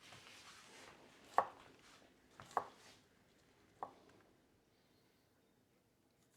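Garlic sliced thinly with a knife on a board gives three sparse, faint knocks a second or so apart, with a quiet room hush between them.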